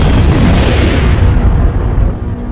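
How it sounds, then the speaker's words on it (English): Deep, roaring supernova explosion effect with a sustained low rumble and broad blast that stays loud throughout, slowly thinning at the top end and easing slightly near the end. "The explosion is a supernova, an immense burst of radiation that briefly outshines an entire galaxy."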